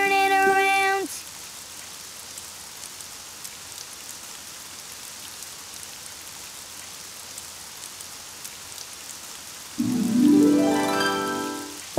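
Rain falls outside in a soft, even patter that runs steadily throughout, faint and continuous, with brief melodic tones at the start and end.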